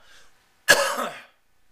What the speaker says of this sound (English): had a little cough, if you know what I mean.